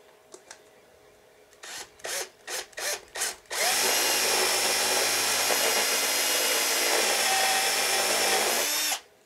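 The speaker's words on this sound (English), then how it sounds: "if you have a set of giant drill bits, you can just run a hole straight through" Drill bit run through a hole while building a sci-fi vac suit, first a few short bursts of the power drill, then one long loud continuous drilling whine lasting several seconds before stopping abruptly.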